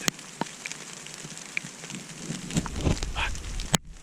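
Steady rain pattering in a forest during a red deer bow hunt, a dense even hiss with scattered drops striking leaves nearby, a few sharper clicks and a brief rustle near the end.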